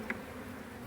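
Steady buzzing of honey bees at an open hive during winter care, a low continuous drone filling the short clip at moderate level, with no voices.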